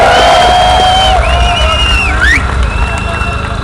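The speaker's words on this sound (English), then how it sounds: "It's good to see such a crowd." Cheering and whoops rise from a large crowd at a cannabis legalisation protest in Ireland, close and loud, with voices shouting over a steady crowd roar.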